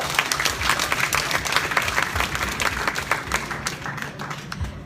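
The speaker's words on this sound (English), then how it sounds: "let's have an applause for Yishi Palmo." An audience at an awards ceremony applauds, giving a dense, steady patter of clapping hands that fades slightly toward the end.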